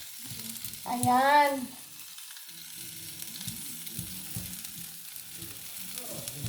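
Bacon frying in a pan for a home-cooked breakfast, a steady soft sizzle running throughout, with a brief tonal chirp near the start and light clinks and kitchen handling noises over it.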